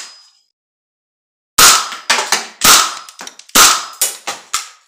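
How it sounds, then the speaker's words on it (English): An AR-style rifle fitted with a training carrier fires plastic projectiles at an indoor house wall: after a brief quiet, a loud, close run of about nine sharp snapping pops, some in quick pairs, each ending in a short clatter. "I'm just gonna be shooting this wall with eye protection on."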